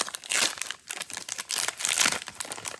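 A Pokémon booster pack wrapper is torn open and crinkled up close, with bursts of crackling plastic in an uneven rhythm over a few seconds and no talking.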